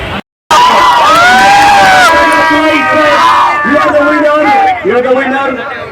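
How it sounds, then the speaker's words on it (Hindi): A crowd at a stage show during a Baisakhi fair cheers and shouts loudly, including children's voices, continuous and close after a brief gap near the start, easing toward the end. "ताली होनी चाहिए जोरदार"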